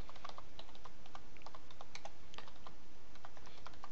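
Quick, irregular keystrokes on a computer keyboard as a search is typed, the clicks close and fairly quiet against a steady low hiss, with no voices.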